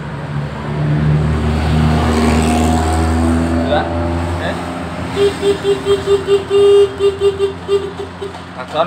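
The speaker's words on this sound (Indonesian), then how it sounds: "Klakson ya. Ini kita pencet dua-duanya." A motorcycle horn honks in a quick series of short, repeated beeps near the end, after a stretch of engine idling and talking.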